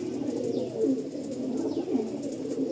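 Andhra pigeons coo in a loft, a steady layering of low, throaty rolling coos close by, with rising and falling phrases repeating throughout and no talk.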